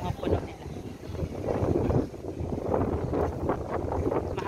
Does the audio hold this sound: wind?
yes